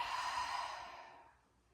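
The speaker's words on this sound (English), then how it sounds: "Deep exhale out." One long, deep exhale during a guided trauma-informed yoga breathing exercise, a soft breathy rush that starts fairly strong and fades gradually to silence, close and alone.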